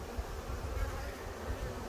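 Honey bees buzz steadily inside a hive that is rebuilding and may lack a queen. The drone is a soft, continuous hum heard alone, with no voices.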